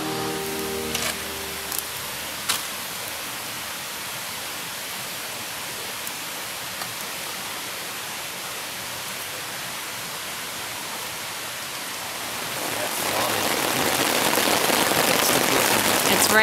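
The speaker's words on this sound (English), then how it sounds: "It's raining." Rain pattering on a tent while backcountry camping in the Great Smoky Mountains, a soft, even hiss that swells louder near the end, with a few faint knocks early on.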